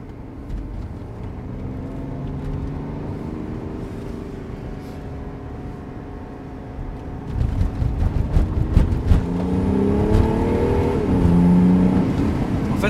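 A diesel car engine hums steadily from inside the vehicle, then revs up with rising, surging pitch as it accelerates, fairly loud and close.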